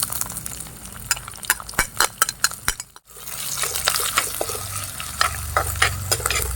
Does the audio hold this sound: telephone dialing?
no